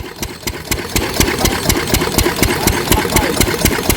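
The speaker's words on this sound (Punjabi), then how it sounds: "ਕਾਲੇ ਤੇਲ ਵਾਲਾ ਇੰਜਨ ਕਹਿੰਦਾ ਨੇ ਨਾਲੇ ਆ ਚੱਲ ਰਿਹਾ ਹੈ" A diesel engine powering a fan in a Punjab paddy field runs steadily close by, its loud, regular knocking beats repeating rapidly throughout with no talk.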